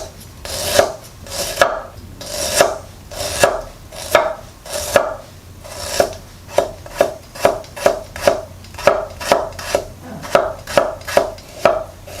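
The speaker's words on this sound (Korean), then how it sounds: "너무 짧지 않고 좀 길쭉하게 잘라주는 게 집어서 이렇게 드시기 좀 편하니까 길쭉하게 잘라주세요." A knife chops ginger into long strips on a cutting board, about twenty crisp, close knocks in a steady, slightly uneven rhythm with brief pauses.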